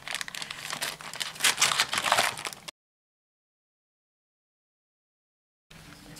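Empty plastic packets from a Lenovo A830 smartphone box crinkle and rustle close up in a brief burst of handling, then fall silent before a short return of faint rustling.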